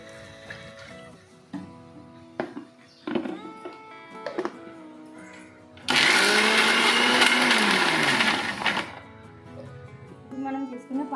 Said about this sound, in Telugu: మనం చేసుకున్న బ్యాటర్ని మళ్ళీ ఒక్కసారి మిక్సీలో వేసుకొని లైట్గా వాటర్ వేసుకొని మళ్ళీ ఒకసారి గ్రైండ్